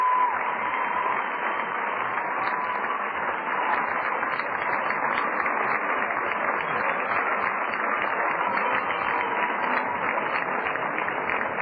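A crowd of over 2,500 at a Cedar Rapids Kernels at Peoria Chiefs baseball game on a cool summer evening in central Illinois gives a standing ovation. The applause is loud and steady and carries on unbroken for the whole stretch.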